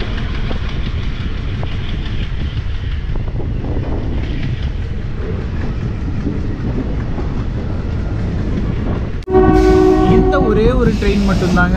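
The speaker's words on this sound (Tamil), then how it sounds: "ஒரு எலக்ட்ரிஃபை பண்ணாத ஒரு ரூட்டில் வந்து ட்ரெயினை பார்க்குறது ஒரு வேறு லெவலுங்க" Diesel train on the non-electrified Madurai–Theni route, a loud running rumble and rattle of the cars that gives way near the end to a blaring, sustained horn close by.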